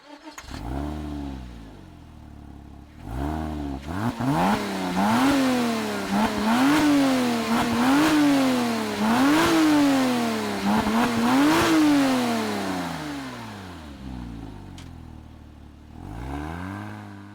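A base Porsche Boxster with automatic transmission revs up through several gears, each climb in pitch broken by a brief dip at the shift, loud and close, then it settles.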